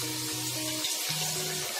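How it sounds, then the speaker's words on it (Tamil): Water splashing into a pan of lightly fried chicken for a curry, a brief steady pouring hiss with faint sizzling underneath. "இப்ப நாம இதுல வந்து தண்ணி சேர்த்துக்குவோம்."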